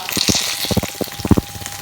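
Cutlets sizzling in a frying pan on the stove, a steady crackle of hot fat with brief louder pops and spatters, close and alone without talk.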